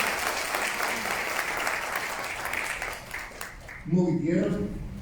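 Applause fills the room at a housing-rights conversatorio, a sustained crowd of clapping hands that tapers off as a speaker's voice takes over.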